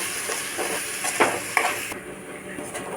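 Chopped tomato and onions stirred and frying in a pan for Chettinad mutton sukka: a continuous sizzle with scraping spoon strokes against the pan, close and fairly loud.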